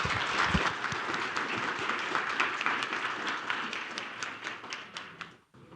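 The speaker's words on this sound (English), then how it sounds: "please join me in giving a round of applause to our speaker" An audience at an East Asian competition policy conference gives a sustained round of applause for a speaker, dense steady clapping filling the hall for several seconds before tapering off abruptly.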